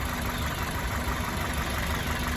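A car engine idles steadily during an engine flush treatment meant to free seriously stuck piston rings, a constant close mechanical hum with no talk.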